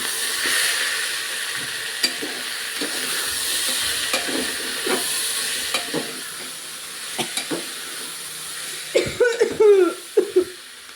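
Repeated coughs in a kitchen while khichdi with peas cooks, short dry bursts scattered through steady frying sizzle and hiss, growing into a closer, denser cluster of hacking near the end.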